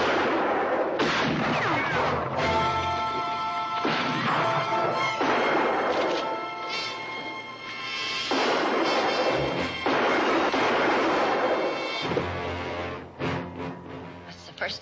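Gunfire from a western-era shootout, with loud, repeated crashing blasts coming in bursts over about fifteen seconds, heavy and near, with a faint voice partly buried beneath them.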